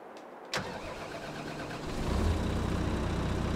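Engine of a tractor starting up in Farming Simulator 22, on the Land of Italy map: a sharp click, then the motor catches and settles into a low steady idle that grows slightly louder after about two seconds.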